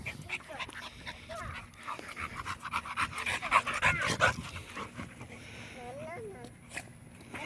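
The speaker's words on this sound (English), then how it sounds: "Should be a pretty big dog." An American Bully puppy, wet from running outdoors near water, pants rapidly and close, and light movement and a couple of whimpers are heard around it.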